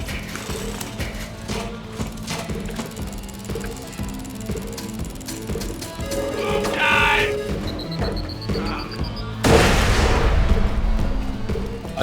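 Explosions and bursts of gunfire from the video game Borderlands 2, with repeated booms and crashes, a loud blast near the end, all over a steady bed of game sound and music.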